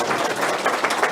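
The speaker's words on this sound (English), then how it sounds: "Let's give all the candidates a round of applause." Dense, steady clapping from a candidate forum audience fills the whole moment, loud and close without pause.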